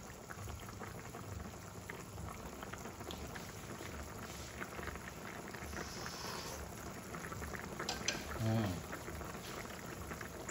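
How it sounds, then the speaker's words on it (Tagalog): A pot of Ilonggo KBL broth with kadyos beans, pork, jackfruit and batuan fruit bubbles in a steady, dense simmering hiss that continues without a break, with faint background sounds. "Then, pakuluan na."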